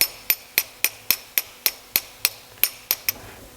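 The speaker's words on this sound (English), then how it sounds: "I'm just gently tapping my roll pin in" A roll pin in an early Porsche 901/902 manual transaxle is tapped in gently with a hammer on an awl, giving a steady series of about fourteen sharp, close metallic clinks evenly spaced with no talk.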